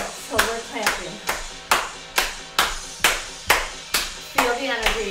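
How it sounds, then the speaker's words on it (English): Rhythmic hand clapping during a group energy exercise, about ten sharp, evenly spaced claps at a steady beat, close and fairly loud, with no talk over them. "Clapping is a sign of a liberated soul. So we're clapping."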